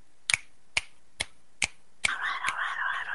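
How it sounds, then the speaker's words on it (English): Five crisp finger snaps land at an even, unhurried pace, close and clear, followed by a soft continuous hiss and rustle with one more snap inside it. "Everybody else listening, finger snaps."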